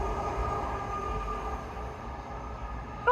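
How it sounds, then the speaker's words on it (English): Fast train running through a station platform without stopping, a steady close rumble and roar of wheels and carriages with a faint tonal hum, continuous from start to end. "Fast train now approaching platform 1. Oh. Does not stop here."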